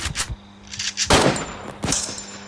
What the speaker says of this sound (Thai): ยิงเลย